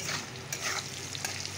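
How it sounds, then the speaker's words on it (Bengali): Fish curry cooking in a pan after the fish pieces were fried, giving a steady close sizzle with soft stirring scrapes and a few brief louder bursts, no voices. "মাছের ঝোলটাও বসিয়ে দিলাম"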